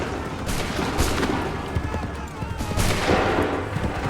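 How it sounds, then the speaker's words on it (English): Musket volleys in Assassin's Creed III crack out as several loud, ragged bursts of massed gunfire with reverberant tails, while shouted voices come and go underneath. "Hold fire! Fire now!"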